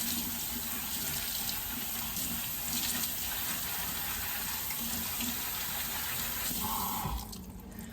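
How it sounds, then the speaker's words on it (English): Pumpkin seeds rinsed by hand in a sink under a running tap, with a steady close gush of water and hands swirling the seeds. The flow drops off sharply near the end. "Now, I'm just gonna give them a nice good rinse. Hands in there, move it around."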